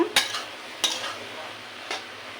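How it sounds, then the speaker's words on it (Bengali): Greens (saag) frying in a pan, a soft continuous sizzle broken by three sharp scraping stirs of a spatula against the pan. "এই যে শাক ভাজি আমার হচ্ছে, প্রায় হয়ে আসছে"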